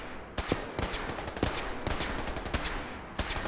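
Bursts of automatic gunfire crack in Fallout 4 as a Child of Atom fighter shoots at a gunner outdoors, short rapid volleys separated by brief pauses, moderately distant.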